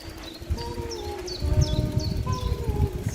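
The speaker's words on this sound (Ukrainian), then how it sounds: "пташки співають" Birds sing in a park on a warm day, repeated bright chirps and whistled phrases at a moderate distance over a low rumbling background, likely traffic or movement.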